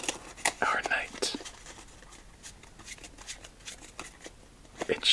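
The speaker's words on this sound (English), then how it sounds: "shuffle up our cards" A deck of playing cards being shuffled up close, with crisp riffling bursts near the start and occasional soft card flicks and handling rustles afterward, quiet and intimate, with no talking.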